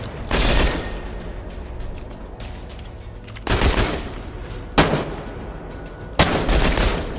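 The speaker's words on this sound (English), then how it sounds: "But this range is perfect for the pistol at this point." Pistol gunshots in the video game Insomnia: The Ark, loud sharp single reports spaced a second or more apart, with one at the start and three more later, over a quiet hum.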